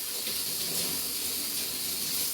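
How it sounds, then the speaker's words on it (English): A kitchen tap runs steadily as hands are washed under it, a soft continuous hiss of water that stays even and fairly quiet for the whole stretch, with no voices. "Let me just wash my hands."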